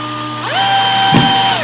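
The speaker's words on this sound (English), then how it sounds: "Screw it a tad of the way in there, and then get onto the middle and then screw the bottom in a little bit more" A cordless drill drives a screw for U-channel glazing in a bathroom, a loud near whine rising in pitch, holding steady, then a brief clunk of the bit as it keeps spinning.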